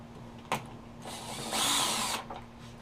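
A power tool whirs briefly to back out a 10mm bolt from the bottom panel of a WEN unit, one short close burst after a sharp click, set against a faint steady hum.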